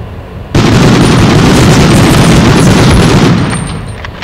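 A loud, dense roar of bazooka explosions and gunfire from the 1999 video game Medal of Honor erupts suddenly, holds for about three seconds, then fades, with no one speaking.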